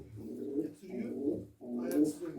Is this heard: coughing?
no